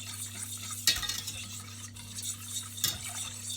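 Utensil stirring a cornstarch, sugar and vanilla-infused mixture in a pot as it heats toward a boil and thickens, with a steady soft scraping and two brief louder clinks against the pot.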